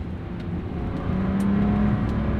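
A Bentley Continental GT W12 pulls away and accelerates, its engine rising from a smooth low drone to a louder, steadier whir heard from inside the cabin.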